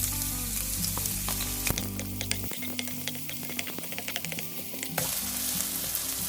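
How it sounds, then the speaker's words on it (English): Green onion stir-fried in cooking oil in a pan for kimchi fried rice: a steady close sizzle with scattered crackles and spatula scrapes, easing slightly partway through, with no talking. "stir-fry the green onion with cooking oil in the pan"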